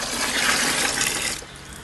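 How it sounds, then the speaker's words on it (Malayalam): Rice-washing water pours steadily onto garden plants, a continuous close splashing stream that cuts off near the end. "അച്ഛൻ അരി കഴുകിയ വെള്ളം ഒഴിക്കുന്നു"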